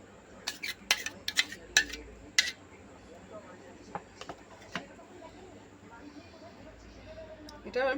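A spoon clinks and scrapes against a bowl while mango cake batter, made without egg or flour, is stirred: a cluster of sharp, close knocks early on, then sparser taps over a quiet background.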